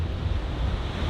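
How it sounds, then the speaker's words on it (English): Huge storm waves crash against a rock and throw up mist, heard as a loud, dense, continuous roar with heavy wind buffeting the microphone. "show you guys how these waves are crashing against the rock"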